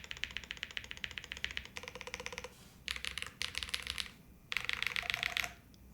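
Keys are typed rapidly on a Space80 mechanical keyboard build, producing dense bursts of crisp clacking separated by short pauses, close and clear.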